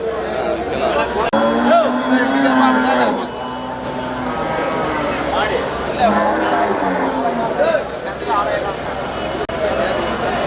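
Cattle moo in long, low calls at a busy cattle market in Melapalayam, heard twice over a steady hubbub of nearby crowd talk and market noise.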